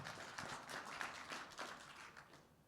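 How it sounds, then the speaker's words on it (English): Applause from a small audience at a sports analytics hackathon finals, a fairly soft patter of many hands clapping for a few seconds with no talk over it. "Thank you, guys. Round of applause."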